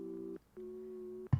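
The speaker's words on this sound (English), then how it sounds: "That has to be the phone ringing." Two tonal telephone beeps within a played song, with a short gap between them, the second held longer, sounding faint and slightly distant, followed by a sudden soft knock.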